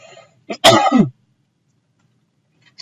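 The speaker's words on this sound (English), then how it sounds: "excuse me a second, I got a cough" A single throaty cough, close and sharp, following a brief bit of breath noise, then silence.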